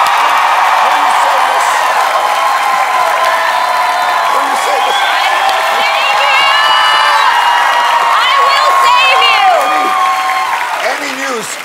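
A television studio audience on a late-night talk show claps and cheers loudly, a dense, sustained roar of applause with whoops and high shouts rising through it, easing slightly at the very end.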